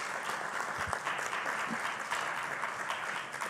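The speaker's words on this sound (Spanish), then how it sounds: "Que se escuche fuerte el aplauso para la senadora Alejandra Lagunes" A crowd at a national day of solidarity with child victims of sexual abuse gives loud, steady applause for Senator Alejandra Lagunes, many hands clapping continuously throughout.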